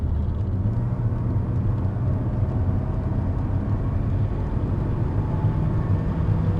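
A 1998 Mercedes-Benz SLK230 Kompressor (R170) accelerates at full throttle in top gear from about 80 to 120, giving a steady, loud engine and road rumble heard from inside the car with no talk.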